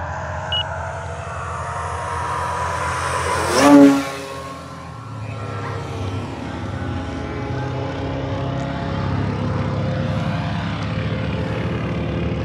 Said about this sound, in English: I'm controlling an airplane currently.